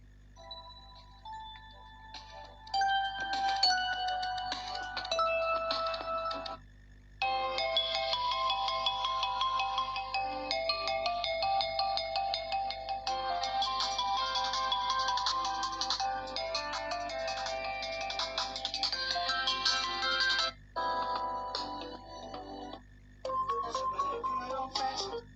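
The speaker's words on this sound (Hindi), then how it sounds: "तो यहाँ से कुछ रिंगटोन्स को चलाते हैं।" Electronic phone ringtone melodies from a QMobile Qsmart View Max Pro play one after another through its speaker, bright and tonal, with short gaps between tunes.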